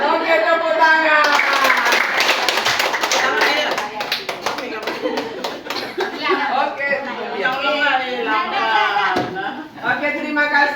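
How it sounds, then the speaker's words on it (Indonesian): Children in a classroom clap their hands together in a burst of sharp claps, then keep clapping more loosely while voices chatter and chant over them. "oke tepuk tangan"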